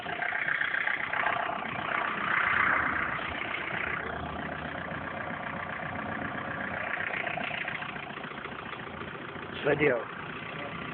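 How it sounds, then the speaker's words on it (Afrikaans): A Mahindra turbo engine revs and pulls away, a steady mid-pitched drone running through the whole stretch with a brief louder surge near the end, while people talk over it. "Check nou hier turbo se wegtrek"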